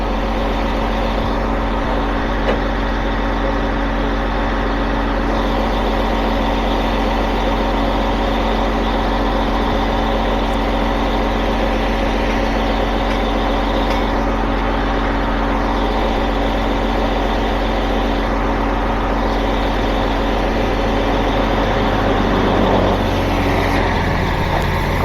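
A dump truck's engine runs steadily at idle, a loud continuous low rumble and drone that holds unchanged throughout with no talk over it.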